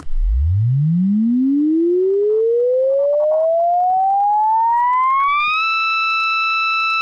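A loud, clean synthesizer tone sweeps steadily upward from a deep bass note to a sustained high pitch, gaining bright overtones at the end.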